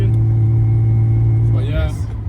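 A drift-spec BMW E36 drones loudly from inside the cabin while driving, a steady low engine hum with someone talking over it.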